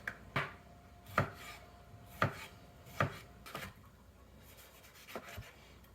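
Knife chopping a tomato into small cubes on a board, about six crisp, evenly spaced knocks at close range, quiet between strokes and no talk.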